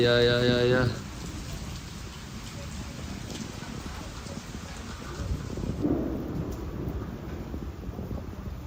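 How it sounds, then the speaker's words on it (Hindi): Steady rain patters and hisses close by after a brief burst of tonal sound at the start, with a low rumble swelling near the end. "फाइनली बारिश हो गई जिसकी हम सबको ज़रूरत थी"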